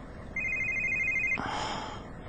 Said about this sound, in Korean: 주머니에 넣어둔 휴대전화가 울렸다